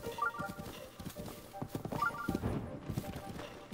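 Horse hooves clop in a steady galloping rhythm in The Legend of Zelda: Breath of the Wild, moderately loud over faint game ambience, with no talk.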